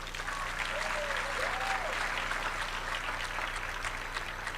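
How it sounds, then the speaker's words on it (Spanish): An audience applauds to welcome a speaker at a school panel discussion on media literacy, giving steady, dense clapping that holds at an even level throughout with no pause. "La recibimos con un fuerte aplauso"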